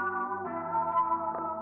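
Sustained synth pad with a mysterious, textured tone for a West Coast style beat, its MIDI copied from the Rhodes part and processed the same way, holding steady and moderately loud with a slight shift in timbre midway.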